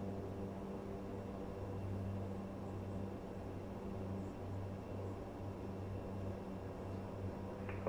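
Turboprop engines of an ATR 72-600 in Microsoft Flight Simulator drone steadily and fairly quietly as the throttle is advanced for takeoff, holding an even, tonal hum throughout.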